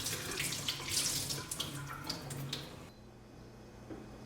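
Running tap water splashes steadily as rice is rinsed in filtered water for dosa batter, a close, moderate wash that cuts off abruptly partway through, leaving quiet room tone.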